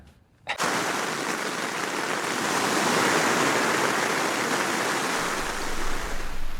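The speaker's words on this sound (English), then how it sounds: "I got woken up by this strong rain. It was pouring." Strong, steady downpour of rain at night on a remote mountain peak in Hawaii, a dense continuous wash of noise that begins abruptly after a brief quiet moment and holds loud and even throughout.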